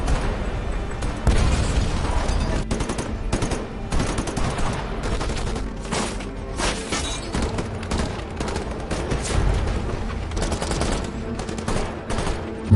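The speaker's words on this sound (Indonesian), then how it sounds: "terjadilah baku tembak yang sangat seru" Movie shootout between a SWAT team and robbers, with continuous heavy gunfire, rapid bursts and loud booming explosions filling the whole stretch at high volume.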